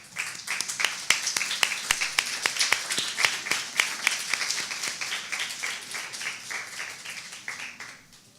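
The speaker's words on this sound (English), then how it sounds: "join me in giving these parents a round of applause for their support of you" A graduation ceremony audience applauds the parents with a sustained, dense round of clapping that swells early and then slowly fades over several seconds.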